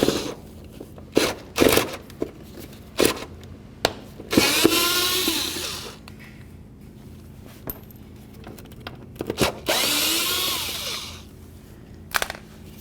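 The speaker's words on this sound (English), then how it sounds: "We're going to use a T20 to remove both of those bolts." A power driver fitted with a T20 bit spins out fog light mounting bolts on a 2007–12 Dodge Caliber in several short whirring bursts, mixed with clicks and clatter of handling the parts close by.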